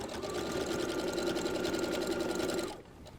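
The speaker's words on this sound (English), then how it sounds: "We're just going to sew it straight across here." A sewing machine with a universal 80/12 needle stitches straight across a cotton T-shirt seam, a steady fast close whir that runs continuously for nearly three seconds and then stops.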